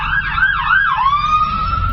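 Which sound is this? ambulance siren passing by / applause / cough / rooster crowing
ambulance siren passing by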